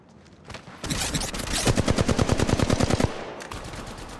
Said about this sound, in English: Contact. Firing. Opening fire.